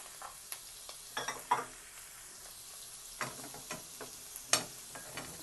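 Carrots fry with garlic in a pan over medium flame, a quiet sizzle under intermittent scraping and tapping as a utensil stirs them, the sounds spaced irregularly and moderately close.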